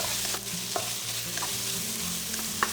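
Sichuan peppercorn powder and sugar frying for mapo tofu in a hot pan: a steady, close sizzle with occasional scrapes and stirring knocks, no voices.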